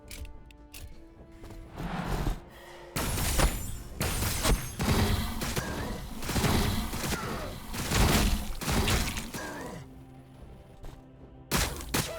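Tyranid Impaler cannon and Shockwave cannon fire in the Warhammer Battlesector strategy game, a run of heavy thumping blasts and crackling impacts in quick succession, fairly loud and dense.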